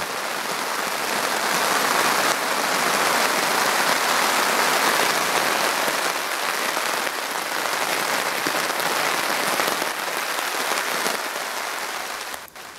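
Heavy rain pours steadily at a campsite on a canoe trip, a dense hiss of drops drumming on a surface, continuous and loud with no voices.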